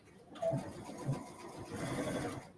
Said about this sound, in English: I'm making a narrow zigzag a narrow, close together zigzag.